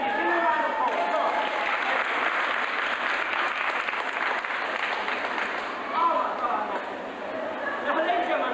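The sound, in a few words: audience applause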